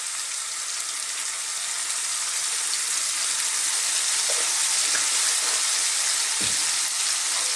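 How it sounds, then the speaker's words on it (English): Ground beef sizzling steadily in a hot pan for moussaka, seasoned with salt, black pepper and herbs: a dense, even frying hiss held close throughout, broken by a few soft stirring knocks near the end, with no voices. "cook our beef just for about 3 to 4 minutes"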